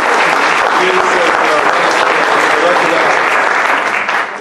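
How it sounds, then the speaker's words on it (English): Loud, continuous applause from the audience for candidates after a Rotary debate, a thick burst of clapping from a crowd that holds throughout. "the people I want you all to have the biggest round of applause for are these candidates who stood up."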